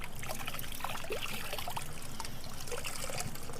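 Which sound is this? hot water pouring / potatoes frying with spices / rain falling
hot water pouring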